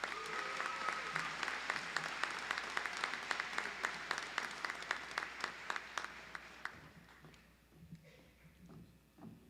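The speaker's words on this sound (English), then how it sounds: "Join me in a round of applause for her this evening." An audience at a commencement ceremony gives a round of applause, dense sustained clapping with sharper individual claps standing out, gradually fading away toward the end.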